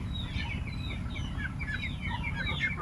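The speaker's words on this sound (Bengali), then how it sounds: "60টা হাঁস, আরও কিছু হাঁস ওর দিকে আছে।" Farm ducks of a Chinese breed, sick with duck plague, make short, close, overlapping calls and chirps over a steady low background noise.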